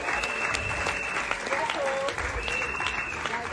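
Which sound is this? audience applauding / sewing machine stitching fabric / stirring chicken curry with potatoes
audience applauding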